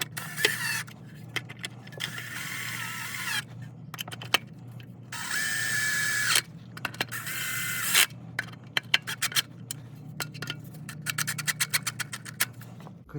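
A ratchet with a 10mm socket removes bolts during a transmission fluid and filter change, heard close up as short bursts of whirring and then quick runs of sharp, rapid clicks separated by brief pauses.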